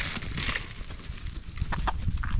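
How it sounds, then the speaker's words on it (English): Chickens clucking in a farmyard, with soft overlapping clucks and short calls from several birds nearby over a low rumbling background. "You coming, chickens? You coming?"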